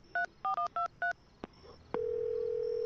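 A telephone in a video game is dialed: five quick, evenly spaced keypad tones, a couple of soft clicks, then a steady ringing tone that holds to the end, with no voices.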